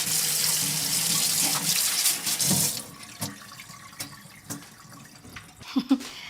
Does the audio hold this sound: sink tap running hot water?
yes